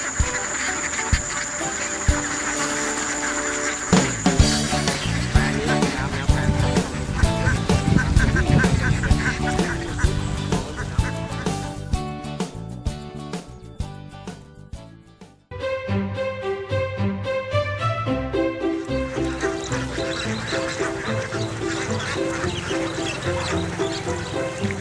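Farm ducks kept on an organic rice farm quack and honk loudly and continuously, in a busy overlapping chorus that runs throughout.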